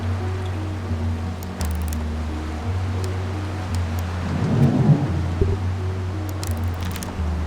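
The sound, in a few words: thunderstorm rain in video game Retropolis 2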